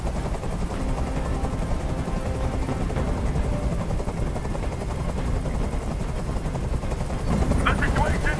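A helicopter hovers in the Detroit: Become Human video game, its dense rotor thrum and engine roar filling the scene continuously and loudly, with faint crackling bursts near the end.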